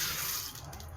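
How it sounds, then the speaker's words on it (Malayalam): Water pours from a tap into a cooking pot of soaked green gram, a brief steady splashing stream at moderate level with no talk. "വെള്ളം ഒഴിച്ച് കൊടുക്കുക"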